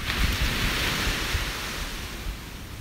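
Ocean surf washes onto a beach in a steady, broad rush with wind buffeting the microphone, moderately loud and continuous, with no voices.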